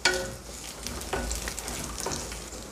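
Coconut pieces frying in a pan for a coconut curd chutney, a short stretch of even sizzling with a few light stirring scrapes, close and moderately quiet, no voices.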